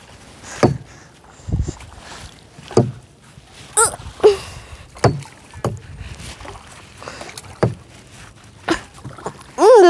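A first-timer paddles a rowboat, each stroke a separate splash and knock at irregular intervals of a second or two, close and fairly loud, with a voice briefly heard at the end.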